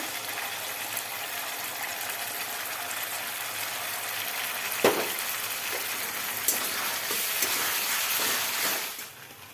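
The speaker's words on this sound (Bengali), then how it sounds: "পেঁয়াজ বাটাটা দিয়ে একটু নাড়াচাড়া করবো একটু ভাজা ভাজা হবে" Steady hiss of onion paste frying in a pan, with a few soft scraping stirs near the end.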